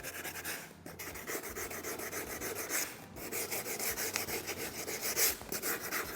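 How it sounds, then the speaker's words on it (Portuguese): Sandpaper rubbing over a rounded cake prop for a giant Christmas cake decoration, a steady close scratchy rasp in repeated strokes with brief pauses, fairly quiet and with no talking. "eu venho passando a lixa só para ele ficar mais bem acabadinho"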